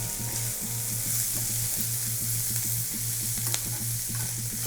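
Green chillies and shredded cabbage fry in hot oil in a pan for cabbage chutney, giving a steady, dense sizzle and crackle with a low repeating hum underneath and no voices.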